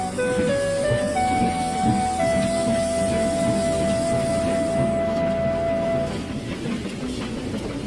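A steam locomotive pulls away from a station, with a steady broad hiss and rumble and a long sustained whistle-like tone that drops out near the end, leaving rolling noise.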